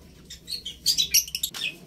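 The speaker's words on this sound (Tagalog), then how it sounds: "Napakagandang ibon na pinahiram sa atin ni Sir Asyong." A bird chirps in a quick run of high, sharp tweets, close and fairly clear, in an otherwise quiet setting.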